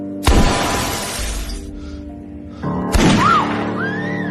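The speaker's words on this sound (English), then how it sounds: "The sound of shattering glass pierced through my skull like a blade." A sharp gunshot crack followed by a burst of shattering window glass and falling shards, then a second loud impact with more breaking glass, close and loud.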